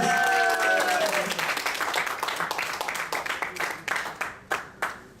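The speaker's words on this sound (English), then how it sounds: "Give them a round of applause." Audience applause for two debate contestants at a Toastmasters public speaking meeting: dense clapping that thins into scattered, sharper individual claps as it dies down, with a faint voice and a tonal sound early on.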